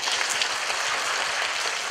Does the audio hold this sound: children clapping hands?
yes